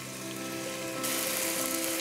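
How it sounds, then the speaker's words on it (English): A small test piece of potato sizzles in hot oil in a pan for an Indonesian beef stew, giving a close, steady crackling hiss that grows brighter and louder halfway through, with no talking. "Let me take a little piece of potato to test if the oil is hot enough. Okay, it's sizzling, so that's good."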